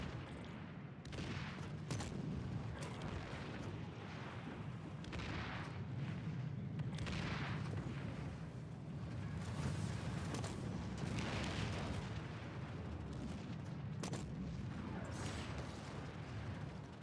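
Vehicle weapons fire in PlanetSide 2 as a continuous barrage of heavy booming shots and blasts, some rhythmic and others overlapping, with a sustained rumble underneath.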